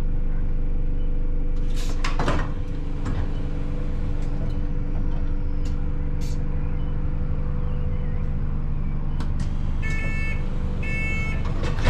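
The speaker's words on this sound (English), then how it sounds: "Centre exit doors." Centre exit doors of an Alexander Dennis Enviro400H hybrid bus work with thuds and a pneumatic hiss, then a repeated electronic warning beep over the vehicle's steady idle hum.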